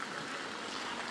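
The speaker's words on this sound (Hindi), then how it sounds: "खतरनाक सी बारिश हो रही है" Heavy rain pours down in a village during the rainy season, a dense, even hiss of falling water filling a brief moment without any voices.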